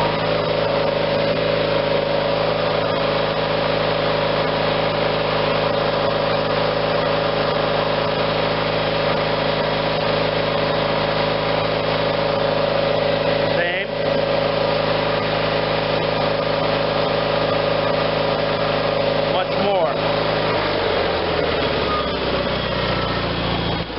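Onan engine on a John Deere 318 garden tractor with a battery charging fault, running loud and steady with a constant droning hum, a brief rev change near the end, and quiet talk under it.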